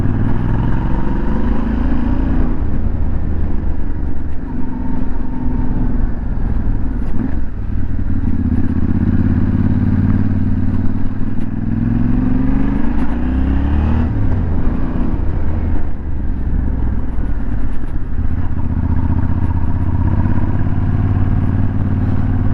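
Yamaha Tenere 700 motorcycle engine running steadily and loud throughout, with rising and falling revs as the throttle is twisted in third gear, plus wind rush and mechanical clatter.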